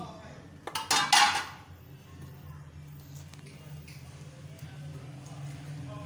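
Chana dal gosht, a lentil and mutton curry, being served into a dish brings a short cluster of clattering metal spoon and pot clinks near the start, then a quiet room hum with faint background voices.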